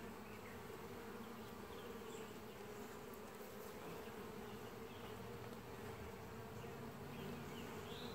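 Honeybees buzz steadily in an open hive, a dense, continuous hum that stays close and even throughout with no talking.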